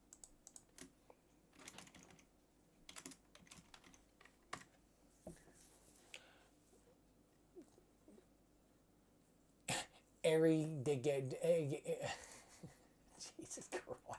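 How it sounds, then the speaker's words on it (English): Computer keyboard typing during a live stream, appearing as faint scattered key clicks through most of the stretch, with louder bursts of voice near the end. "I am doing well on the typing side of things right now."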